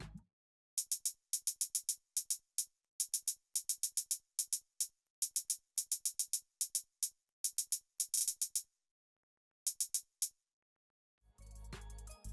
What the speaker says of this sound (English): And then in the chorus, the hi-hat sounds like this.